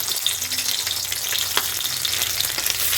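Cut-up eggs hit well-heated oil in a pan for an aloo dim dish and fry with a dense, steady sizzle and crackle that holds at an even loudness for the whole stretch, close and with no talking.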